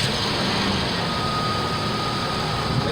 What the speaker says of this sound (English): Okay, let me start the engine.